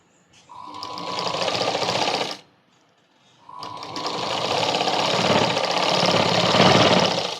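Close, loud sewing machine whirring as it stitches a baby frock, one two-second run, a pause, then a longer steady run of about four seconds.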